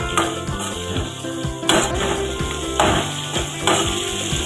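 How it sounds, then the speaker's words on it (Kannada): Onions fry in a pan with salt added while a dosa made from wheat flour is prepared, giving a steady close sizzle with scattered stirring clatter and a few sharp knocks. "ಉಪ್ಪು ಹಾಕಿ ಸ್ವಲ್ಪ ಈರುಳ್ಳಿ ಕೆಂಪಗಾಗುವವರೆಗೂ ಹುರಿದು"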